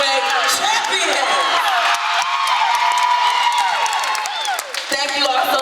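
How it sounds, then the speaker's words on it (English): Gym crowd at a middle school girls' 7th grade basketball championship claps and cheers steadily, with whoops and shouts rising over continuous applause, loud and close throughout. "Clap it up for your LEL Middle School 7th grade champion."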